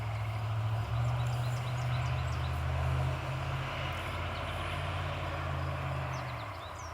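A car passes by outside on a quiet residential evening, a low steady rumble that swells and then fades away, with faint chirping from tree toads or birds above it.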